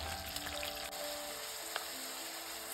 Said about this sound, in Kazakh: Қалған етімізді қуырып аламыз.